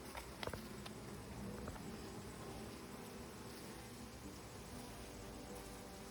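Honey bees buzz steadily around an opened hive during an inspection, a dense, continuous hum with a few sharper close passes early on and no talking over it.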